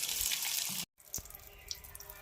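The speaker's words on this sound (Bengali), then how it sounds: "তারপর ভালোভাবে ধুয়ে নেব আলুগুলো" Peeled potatoes are washed under water, first a loud rushing stream, then a sudden stop, then quieter splashes and drips as they are handled.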